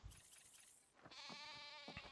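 A sheep bleats in the modded ARK video game, one long wavering bleat that comes after a brief burst of noisy clatter, fairly loud and close.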